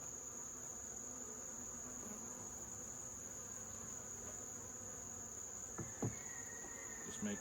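Honeybees in an open hive buzz in a soft, continuous drone close by, with a few sharper clicks and thumps near the end and a steady high-pitched tone underneath.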